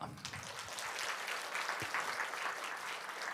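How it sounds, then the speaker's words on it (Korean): A Korean church congregation at a Sunday service claps together in steady, dense applause, heard from some distance in a large hall, with faint voices mixed in. "여러분 하나님께 영광의 박수 한번 돌립시다"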